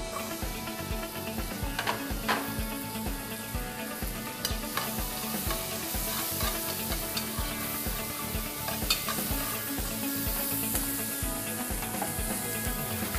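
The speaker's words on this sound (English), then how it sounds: "Wait for the butter to melt. We are going to add in our onions." Onions sizzle steadily in melted butter for cream of carrot soup, with continuous frying hiss and rhythmic scraping of a utensil stirring the pan, close and fairly loud throughout.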